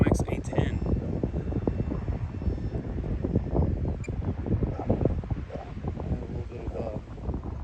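A UMX F86 radio-controlled model jet flies in to land, its steady motor whine heard from fairly close in a wind-buffeted outdoor setting.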